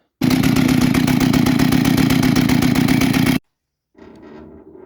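A Jonsered 625 chainsaw with a clutch fault, where the clutch stays always engaged, starts and runs loudly at a steady fast rattling idle for about three seconds, then cuts out abruptly, followed after a pause by quieter clattering mechanical noise.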